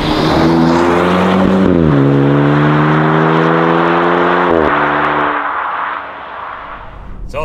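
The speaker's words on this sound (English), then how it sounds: "Let's go and try the Trofeo, because that's got a 3-litre V6 in it" A Maserati Grecale Trofeo with a 3-litre V6 revs hard and loud, pitch climbing, dropping at a gearshift, climbing again, then easing off toward a quieter rumble.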